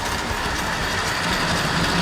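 A DJ Models 0-6-0 pannier saddle tank model locomotive in National Coal Board colours pulls cement wagons around a layout, making a continuous close rolling clatter and rumble with no voices.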